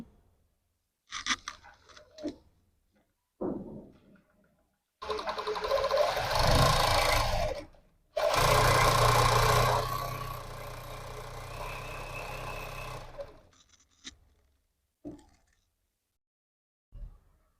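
Sewing machine stitching a blouse, two sustained bursts of rapid mechanical whirring a few seconds each, close and fairly loud, with scattered short clicks and handling noises before and after.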